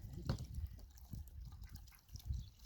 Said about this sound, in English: having to use a hose to fill up everything this morning